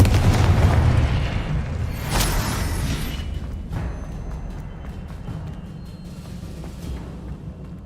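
A Confringo blasting curse in Hogwarts Legacy: a heavy explosive boom opens loudly, a second burst follows around two seconds in, and a long rumbling tail then fades gradually.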